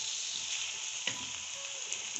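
Capsicum and long-cut mixed vegetables frying lightly in a pot for pulao, giving a soft, continuous sizzle with one brief stirring clack.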